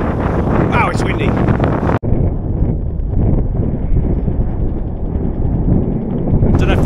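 Strong wind buffets the microphone outdoors on a walk where ibex are about, a loud, roaring rush that fills the clip. A brief dropout cuts in early, and a voice is heard over the gusts.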